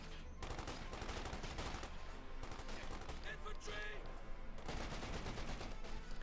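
Dense, continuous gunfire from Company of Heroes 2, rapid machine-gun bursts and rifle shots rattling nonstop in a close, loud battle with brief lulls between volleys.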